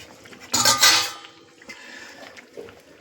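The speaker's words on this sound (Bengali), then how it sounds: "এবার আমি বেগুনগুলো দিয়ে দিচ্ছি" Eggplant pieces tumble into a pan of boal fish and potatoes in mustard sauce, making a short, loud clatter of cookware and utensils up close, followed by quieter scraping and soft bumps.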